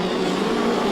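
Midget race cars roaring through turns 1 and 2 at Lismore Speedway during the POWRI World Midget Championship, a loud, steady engine drone filling the whole moment.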